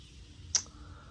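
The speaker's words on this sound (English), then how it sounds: "Oh, I pressed keyboard." A single faint click of a computer keyboard key press during a Baldur's Gate 3 game session, one short sharp tick in an otherwise quiet room.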